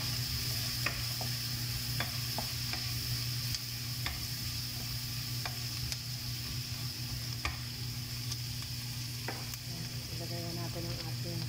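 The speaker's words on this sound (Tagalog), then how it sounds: "Ilagay natin ang ating tomato, chopped tomato." Chopped tomatoes sautéing in a pan for Filipino chicken afritada, a steady moderate sizzle with occasional clicks and stirring taps throughout.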